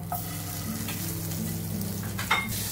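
Butter sizzles in a hot pan, a close, steady frying hiss with a faint hum underneath and one brief clink of utensil on metal near the end.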